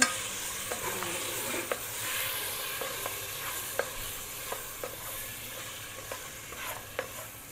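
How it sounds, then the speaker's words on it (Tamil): Mutton sizzles and fries in masala in a pan for Dindigul-style seeraga samba biriyani, a steady close hiss broken by regular sharp clinks and scrapes of a spoon stirring, with no voices. "அதை போட்டு லைட்டாக வதக்கிட்டு"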